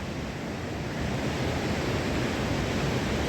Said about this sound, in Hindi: सुपिंड नदी